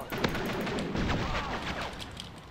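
Gunfire from a sniper rifle in a Modern Warfare video game, a few heavy, booming shots amid a dense, noisy battlefield din, fairly loud and close, with no clear speech.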